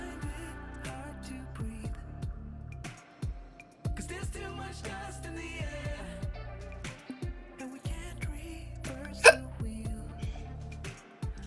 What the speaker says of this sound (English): I have the loudest ass hiccups ever.